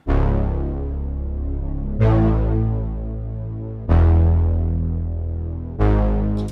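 Four notes from a plucky synth made in the Vital synth sound in turn, each starting with a bright pluck and ringing out with a wide, shimmering chorus effect; no voices.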